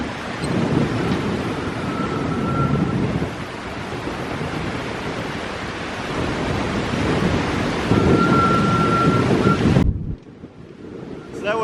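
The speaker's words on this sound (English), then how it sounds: "It is super windy." Strong wind gusts on a canyon hiking trail roar and buffet the microphone in a constant heavy rush, easing briefly before cutting off near the end, with no talking.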